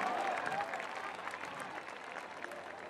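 Concert crowd at the Petronio Álvarez festival applauding in tribute, a sustained roar of clapping and cheering that tapers slightly over a few seconds, with a faint voice briefly audible near the start.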